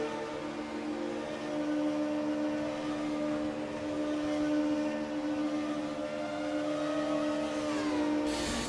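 Formula One car with a Renault engine in the racing game F1 2012, qualifying at Melbourne, a sustained high whining engine tone that holds steady and then drops in pitch near the end, loud and alone.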